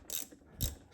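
A socket ratchet loosens the PCV valve on an Acura RSX K-series engine, giving two short, close clicking ratchet bursts about half a second apart, with no talking.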